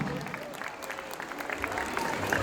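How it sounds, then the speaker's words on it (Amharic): Audience at a school award ceremony clapping warmly, a continuous crowd of hands pattering steadily and swelling slightly toward the end, with a few voices mixed faintly beneath. "እባካችሁ ሞቅ ያለ ጭብጨባ"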